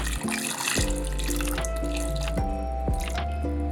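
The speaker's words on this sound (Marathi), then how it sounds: "याच्यामध्ये कैऱ्या बुडतील एवढं पाणी घालून घ्यायचं आहे" Water runs and splashes into a metal pressure cooker holding raw mangoes, a steady flow with a few distinct droplet plinks, near and fairly loud.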